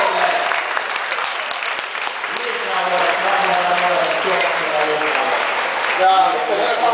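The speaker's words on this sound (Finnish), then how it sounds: "Aplodit Villelle." An audience at a kettlebell competition in an expo hall applauds loudly and continuously for an experienced competitor, a dense unbroken wash of clapping with some crowd noise mixed in.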